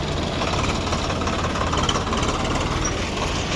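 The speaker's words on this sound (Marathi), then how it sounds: "ट्रॅक्टर मागे जाऊ द्या की" A diesel tractor engine chugs steadily and close by as the tractor reverses, a continuous rough rumble without pause.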